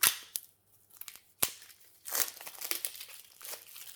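Packaging around a resin glue bottle is unwrapped, giving quiet crinkling plastic and a few sharp snapping clicks in short bursts separated by near silence.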